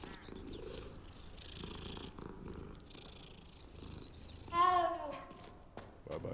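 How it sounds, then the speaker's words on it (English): A cat purrs in the video game Hogwarts Legacy, a soft continuous rumble under game ambience, followed by a brief brighter vocal sound near the end. "Oh, love cats."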